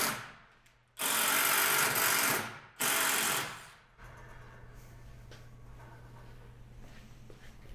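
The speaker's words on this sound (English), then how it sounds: "pre-drill a hole in the top and the bottom of the rail to prohibit the pipe from spinning" A drill pre-drills a hole into a metal pipe handrail for self-tapping screws. It gives two loud, close whirring bursts, then a low steady hum follows.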